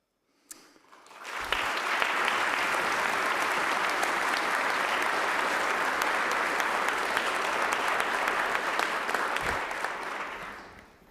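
Applause erupts in a state House chamber during a session, rising quickly after a brief quiet start into full, sustained clapping from many people, then fading at the very end.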